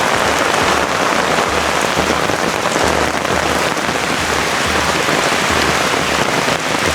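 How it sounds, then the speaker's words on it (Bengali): Heavy rain pours through a rubber plantation in Mymensingh, Bangladesh, a loud, dense, unbroken roar of drops striking leaves and ground, with no voices over it. "প্রচণ্ড সাউন্ড, আপনারা হয়তো বৃষ্টি পড়ার শব্দ শুনতে পাচ্ছেন।"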